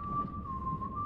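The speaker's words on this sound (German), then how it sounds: "Da pfeift sich einer was." A single person whistles one steady, sustained note with slight pitch wobble in a Telltale Game of Thrones episode, soft and continuous with a low rumbling background.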